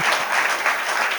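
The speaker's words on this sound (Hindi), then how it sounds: "अच्छे से बजाओ ताली" An audience at a Hindi poetry recital claps steadily, a dense, even patter of many hands filling the whole moment, fairly loud and with no speech.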